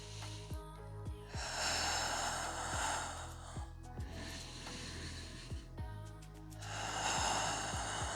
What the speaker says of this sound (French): inspire, inspire. Expire, expire.